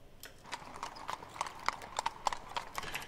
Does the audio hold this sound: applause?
no